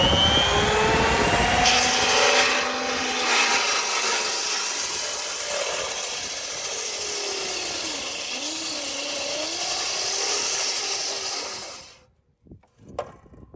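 A power saw cuts a tenon shoulder about 2 7/8 inches deep into a white oak timber-frame beam. It makes a loud, continuous whining roar for about twelve seconds, then cuts off, leaving a few faint knocks.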